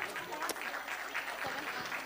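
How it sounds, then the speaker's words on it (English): A school audience applauds a children's Cinderella performance in a dense, steady patter of clapping, moderately distant, lasting a couple of seconds. "Can we have a huge round of applause for a small step?"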